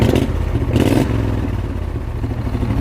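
A race mower engine revs hard with no rev limiter, a loud continuous roar with rattly clatter and a brief surge in pitch near the start.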